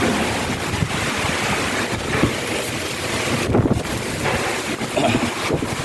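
Strong typhoon wind during Typhoon Tino under Signal No. 4 in Antique roars steadily and close, buffeting the microphone with continuous gusting noise and no pause.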